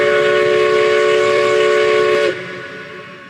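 A locomotive called Manitoba sounds a loud, sustained steady whistle as it arrives with the 10:15 train, the tone holding for a couple of seconds before cutting off and leaving a fainter rumble of the train.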